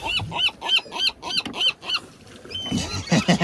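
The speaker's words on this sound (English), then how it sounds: "A little flotilla of seagulls." Seagulls call in a rapid series of harsh, repeated squawks at close range while fighting over squid bait on the water, ending in a noisier scramble of overlapping cries.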